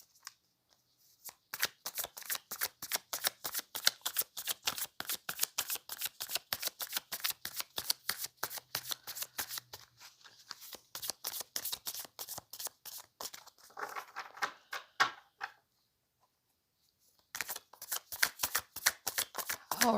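Tarot cards being shuffled and handled close up: a long run of rapid crisp riffling flicks, a brief pause, then more shuffling, with no talking.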